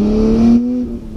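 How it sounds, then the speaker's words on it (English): A modified Nissan R32 Skyline pulls hard through its gears, a loud, close engine drone that holds steady, then drops in pitch at a shift and carries on before easing off. "Let's do a little first and second, maybe third gear pull for us."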